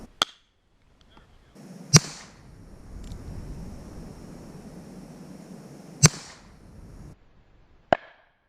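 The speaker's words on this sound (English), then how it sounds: "Next we've got one of these new Aguila Super rounds that we're going to shoot it with." A .22 Aguila Super round fired at a water balloon outdoors gives sharp, isolated cracks. Several single reports ring out seconds apart over a low background hum.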